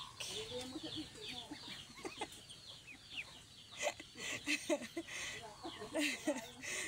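Two young pet ducks making soft, repeated quacks and peeping calls close by, an irregular scatter of short calls with a voice speaking quietly in the background.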